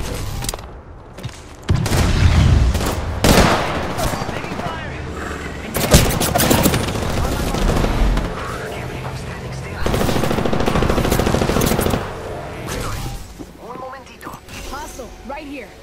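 Apex Legends gunfire rattles in bursts of rapid automatic shots, with booms and mechanical clicks mixed in, loud and close, while in-game voices call out over the fighting.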